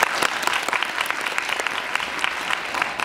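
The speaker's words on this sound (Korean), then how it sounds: "박수 부탁드립니다." Audience at a Korean book concert applauding steadily, a dense, sustained clapping from a sizable crowd that holds throughout without talk on top.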